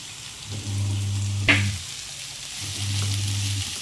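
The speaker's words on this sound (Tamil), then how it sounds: "எல்லாம் போட்டு ஒன்றா சேர்த்து வதக்கிடுங்க" Onion, garlic and curry leaves sautéing in a pan, a soft steady sizzle with a brief clatter of stirring partway through, alongside a low hum.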